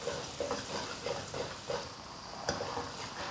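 Minced ginger, scallion and garlic fry in oil in a wok with a spoonful of Sichuan doubanjiang, a soft steady sizzle with faint rhythmic stirring scrapes and one brief clack, quiet and close.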